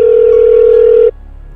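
A telephone tone sounds loud and steady for about a second, then cuts off abruptly, leaving faint background noise.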